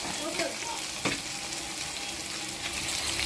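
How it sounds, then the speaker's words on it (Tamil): Onions and tomato sautéing in a pan for mushroom curry, a soft, steady sizzle with occasional stirring scrapes and no voices. "தக்காளி பேஸ்ட் சேர்த்து நல்லா வதங்கணும்."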